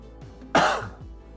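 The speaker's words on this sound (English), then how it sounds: "I can't stop coughing" A single sharp, harsh cough bursts out, loud and close, followed by a brief lingering throaty rasp.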